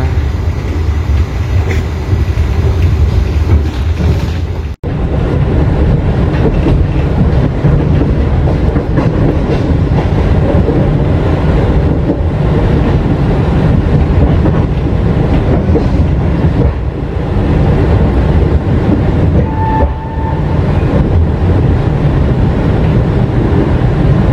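Purwojaya executive train running out of Jakarta, heard from inside the carriage as a loud steady rumble with rhythmic clickety-clack over the rails and a sharp knock near the start.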